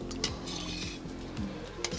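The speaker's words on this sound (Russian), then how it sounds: "Накроем крышечкой, чтобы у нас быстрее закипело все." Clanking metal under steady clatter as a lid is handled on a cauldron over a campfire while a meat solyanka cooks, with a few sharp clinks and a soft stirring, sizzling bed throughout.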